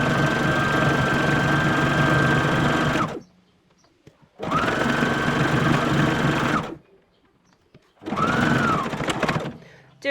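A sewing machine stitches fabric for a drawstring bag in three loud, steady, close runs of whirring stitching, each a few seconds long, separated by short quiet pauses.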